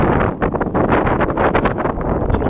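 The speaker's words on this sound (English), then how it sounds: "Little wind and waves, eh," Strong wind buffeting the microphone on an Ontario lake during a solo musky fishing trip from a boat, loud gusty rumbles and whooshing bursts that rise and fall irregularly throughout.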